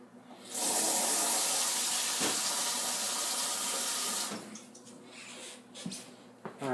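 Water runs from a kitchen tap into a pot for cooking rice, a loud steady gush for several seconds before shutting off, followed by faint splashes and clinks.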